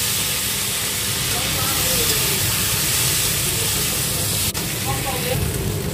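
Loud continuous hiss and steam as a small amount of water hits hot potato masala in a pan, a bright sizzle holding steady at close range with a brief clatter near the end.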